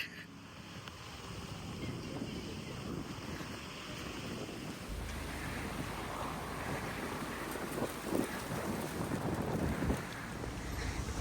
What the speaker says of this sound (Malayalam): കാറ്റ് എന്തോരാണെന്നുള്ളത് ഇടയ്ക്കിടയ്ക്ക് ഭയങ്കര വീശുന്നുണ്ട്